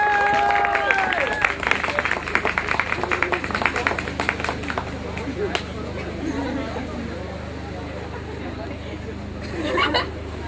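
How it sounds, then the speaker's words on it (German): Applause and crowd chatter for a school choir from Mistelbach at a statue dedication, loud clapping and babble at first, then thinning into a murmuring crowd under a steady low hum. "Großer, dicker, fetter Applaus für den Buckyb und HLW Chor Mistelbach."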